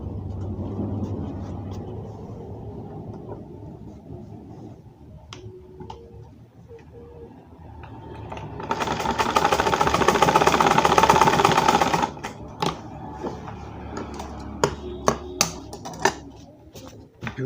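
A sewing machine stitches a pocket in one short, rapid burst of about three seconds, framed by quieter handling clicks and taps.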